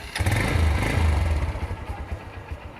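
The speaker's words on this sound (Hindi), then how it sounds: "बहुत प्यारी साउंड होंडा CB 150F की" A Honda CB 150F motorcycle engine runs close by with a steady, throbbing low rumble, a brief rise in revs early on and then a settled idle.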